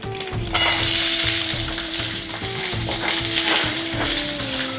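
Small onions and curry leaves frying in a pan give a loud, continuous close-up sizzle, with a brief quiet moment at the start and light stirring scrapes running through it.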